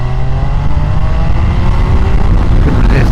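A 2025 Triumph Tiger Sport 800 motorcycle accelerating hard to overtake a car, its engine note climbing steadily in a loud, continuous rising whine with heavy wind rush, heard close from the rider's position.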